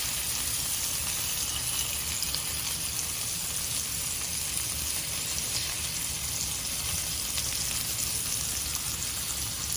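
Salmon fillets searing in a hot pan, a loud, dense, even sizzle and crackle that holds steady for the whole stretch with no voices.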